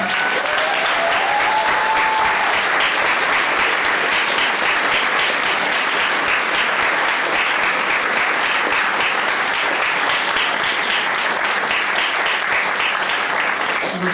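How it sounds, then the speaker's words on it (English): A theatre audience claps after a live performance of 'Our Town', a dense, loud, sustained round of applause that carries evenly from start to finish. "Let's give them a clap."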